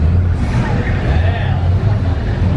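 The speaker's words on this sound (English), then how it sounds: "People, you know, revving their cars and doing their thing." Car engines idle and rev at an outdoor car show in Old Town Kissimmee, a steady low rumble filling the scene with chatter from nearby people mixed in.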